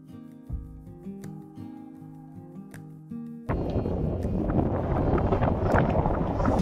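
Strong mountain wind roars steadily and noisily across the microphone on a cold trail in the Sandakphu area, following a quieter stretch of faint tonal background sound.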